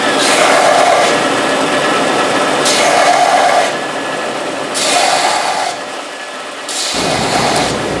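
Steady, loud rasping of wood being sanded by hand for a Torah table, with long strokes that swell and ease back roughly every couple of seconds.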